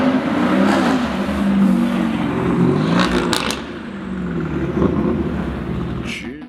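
A Ford Mustang Mach 1 with straight-pipe exhaust revs loudly and up close in a parking garage, a steady roaring engine drone that rises and falls with throttle blips, with no voices over it.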